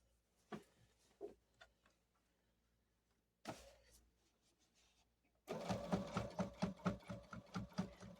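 A sewing machine stitching along the edge of a quilt, starting with a few scattered clicks, then a short burst, before settling into a steady, rapid mechanical run of needle strokes up close.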